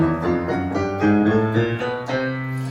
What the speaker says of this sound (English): So that's all of the black keys, all of the white keys. That's called chromatic.